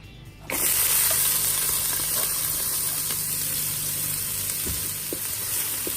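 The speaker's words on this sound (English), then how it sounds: "Let's cook those onions for about 2 to 3 minutes." Onions start sizzling loudly in a hot pan after a brief quiet moment, a steady bright hiss with faint pops continuing throughout.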